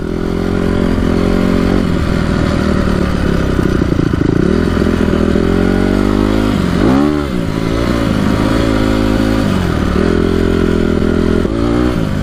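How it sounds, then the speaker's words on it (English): A Honda CRF250R dirt bike engine idles up close with a loud, steady, throbbing burble, dipping briefly midway before settling back into an even idle, with light mechanical clatter. "starting to idle a little bit better."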